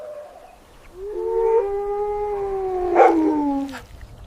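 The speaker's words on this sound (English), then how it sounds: "This is a small brown desert" A small brown desert wolf gives a single drawn-out howl of about three seconds, its pitch rising and holding before trailing down, close and clear with no talk.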